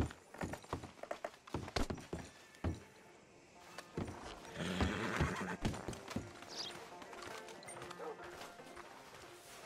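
Horse hooves clip-clop in uneven beats alongside a horse neighing, with thuds and faint voices mixed in, in a scene from the game Red Dead Redemption 2.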